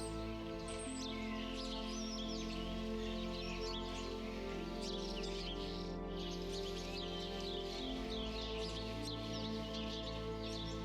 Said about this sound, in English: The strange sounds often heard near the creek are not ghostly beings, but rather quirky, energetic birds living nearby, the Downy Woodpeckers